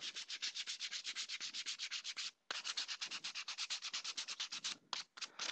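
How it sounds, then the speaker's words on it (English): Edges of PVC/Sintra armor plates being sanded with fast, even back-and-forth rasping strokes, close and steady, with two brief pauses in the rhythm. "Give them a nice sand to round these edges."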